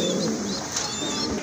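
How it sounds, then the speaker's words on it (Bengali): A pair of large blue magpie pouter pigeons coo softly and continuously against a steady background hum, with no voices. "এখানে কিন্তু বিগ সাইজের এক জোড়া ম্যাকপাই পোটার কবুতর দেখতে পাচ্ছেন"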